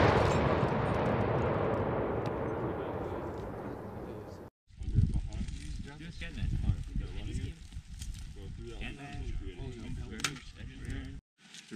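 A demolition charge set off during a paratrooper exercise: a loud, broad roaring blast dies away over several seconds, then after a brief silence voices and outdoor clatter follow.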